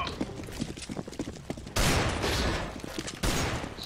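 Gunshots ring out in a CS:GO competitive match, with rapid clusters of shots close by and two sharp, loud blasts standing out against the game's ambient noise.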